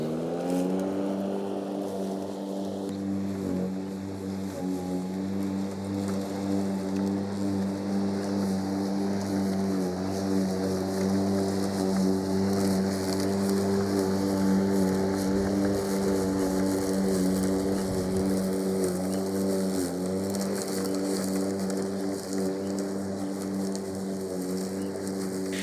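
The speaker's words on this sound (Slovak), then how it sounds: "výkonný brushless motor vôbec nemá problém s používaním pojazdu a vyhadzovaním na výške 3. levelu" Fieldmann FZR 70465-0 cordless brushless 3-in-1 lawn mower runs steadily through grass for the whole stretch, a loud, continuous motor drone with a stable hum and no talking.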